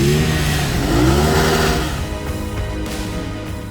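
BMW F 900 GS adventure motorcycle accelerating, a steady rising engine drone with climbing harmonic sweeps that eases slightly toward the end, close and loud with no talk.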